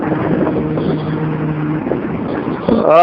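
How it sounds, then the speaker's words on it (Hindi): A steady synthetic engine-like hum from an electric scooter's artificial engine sound, a Revolt RV400, drones under wind noise from the moving ride, ending in a brief rising whine. "ये वाला इंजन साउंड फेक लग रहा है"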